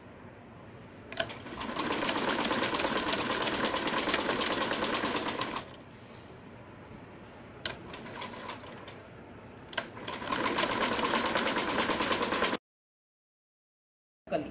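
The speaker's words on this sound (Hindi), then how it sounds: "ये ऑल पिन की साइड से हम ऐसे हम सिलाई मारें।" A sewing machine stitches salwar fabric at home with a half-inch seam. It runs in loud, rapid, continuous bursts: a long run, a pause, short stutters, then another long run that stops abruptly into silence.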